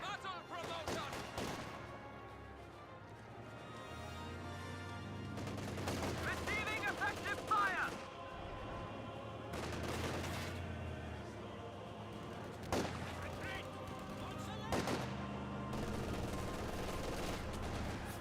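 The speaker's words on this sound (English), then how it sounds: "MG42 firing away" MG42 machine guns fire in the World War II strategy game Company of Heroes 2, with repeated bursts of rapid gunfire and explosions over an ongoing battle soundscape, under a steady commentary voice.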